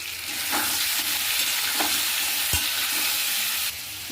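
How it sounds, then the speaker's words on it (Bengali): Potatoes frying in hot oil with salt and turmeric, a loud, steady sizzle up close, broken by occasional scrapes and one sharp knock of a spatula against the pan. "তেল গরম হয়ে গেছে, এবার আলুগুলো আমি ছেড়ে দেব"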